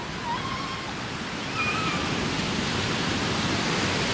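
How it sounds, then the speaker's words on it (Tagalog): Strong ocean waves roll in at a beach resort in Bauang, La Union, heard as a steady, broad roar of surf that swells slightly louder midway, with no talk over it. "Kasi grabe yung alon niya, oh."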